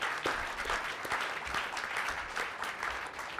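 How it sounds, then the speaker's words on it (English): A seated audience applauds the speakers at the close of a discussion session: steady, dense clapping from many hands, fairly near and continuous throughout, with no talk over it. "what I would like to start off with is a round of applause for all of the speakers."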